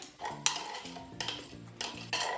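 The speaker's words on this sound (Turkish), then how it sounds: "Bunu güzelce sıyırıyorum şimdi" A spoon scrapes a bowl clean while making Amsterdam Van Stapele cookie dough, in several short scraping strokes with light clinks of metal on the bowl, close and fairly quiet.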